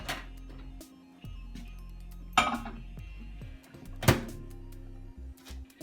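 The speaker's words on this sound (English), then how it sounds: "Then I'm going to place it in the microwave." A container of tea thunks down inside a microwave, followed by clinks, a door closing with a sharp clack, and the appliance's low hum.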